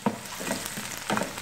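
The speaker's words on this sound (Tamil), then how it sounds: "ஒரு பக்கம் நல்லா வதங்கிட்டு இருக்கட்டும்." Onions sizzle in a pan for a Tamil-style egg curry, a soft continuous frying crackle with a few brief louder stirring bursts, close by and without talk.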